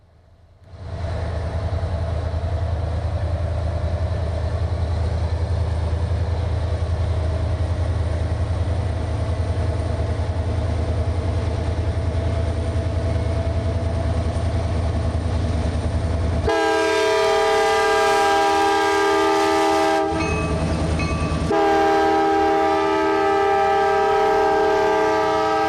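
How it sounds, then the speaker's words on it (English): A KCS intermodal freight train bound for Atlanta rumbles past at close range with a steady, loud roll, then sounds two long, loud horn blasts near the end with a brief gap between them. "168 is yet another intermodal from Wiley, bound for Atlanta."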